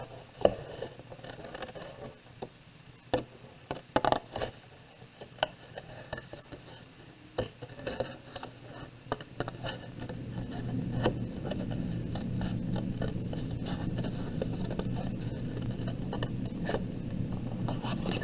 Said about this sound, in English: So bear with me while I cut this out.